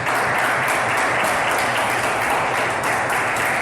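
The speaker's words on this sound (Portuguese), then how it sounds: "Aplauda o Senhor Jesus." Church congregation applauding during a service, a dense, even wash of many hands clapping at once, loud and unbroken throughout.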